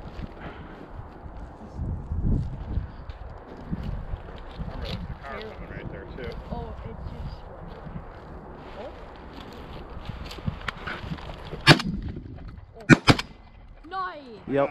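Shotgun blasts during a morning dove hunt, several sharp reports late in the clip including a close pair, over wind noise and people talking outdoors.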